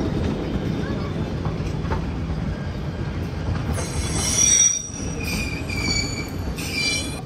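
A train from Coonoor on a steam engine line rolls steadily along the rails with a constant rumble, and high metallic wheel squeals rise and fall in the second half, all loud and close.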